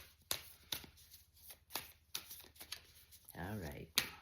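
A deck of tarot cards is shuffled in short, crisp bursts of riffling at close range, with several separate shuffles spaced apart and a voice speaking briefly near the end.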